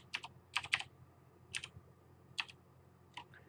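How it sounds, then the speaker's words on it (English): Quiet keystrokes on a computer keyboard, arriving in short irregular bursts of a few clicks with pauses between, close and faint with no voices. "let's go and just type in doc type"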